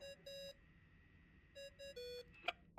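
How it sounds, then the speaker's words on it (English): In Genshin Impact, a phone ringtone plays as short electronic beeps in two clustered bursts, faint and with no one talking, ending in a small click. "I really hate that ringing tone."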